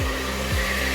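A blender whirs steadily while emulsifying hollandaise sauce, a loud continuous motor drone with a brief dip in pitch partway through.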